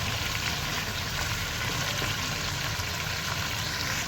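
Chicken frying in a karahi for a cheese karahi dish gives a steady, close sizzle that crackles evenly and never breaks, with no voices over it.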